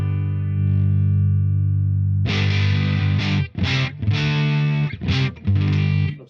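An electric guitar runs through a Boss Waza BP-1w booster, giving a loud, gritty, driven tone. A held note opens the passage, then choppy strummed chords follow in bursts with short gaps between them.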